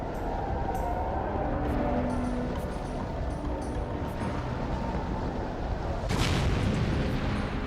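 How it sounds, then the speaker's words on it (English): Volcanic eruption near Pompeii, blasts sounding as a deep, sustained rumble of explosive roar with scattered cracks, swelling into a heavier burst near the end, loud and continuous. "A second explosion hurled gas and rock 18 miles high into the stratosphere."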